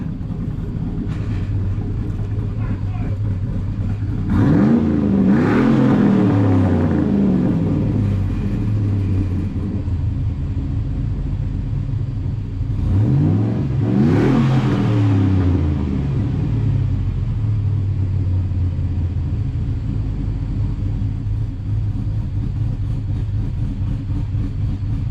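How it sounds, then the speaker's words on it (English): Project Ballin car with its muffler fitted gives a deep, steady exhaust rumble at idle, swelling twice into loud revs before settling back to a low burble. "Man, that thing sounds deep to that muffler"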